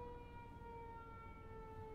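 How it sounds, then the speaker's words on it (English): A distant emergency siren in Costa Mesa wails steadily as a faint, continuous background tone throughout, with no talk. "Sorry about the siren in the background."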